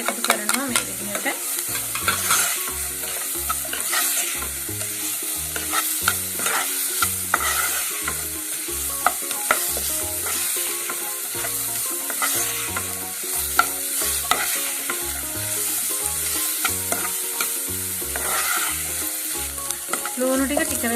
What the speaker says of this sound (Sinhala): ලුණු ටික වෙලාවක් ටෙම්පරාදු කරගෙන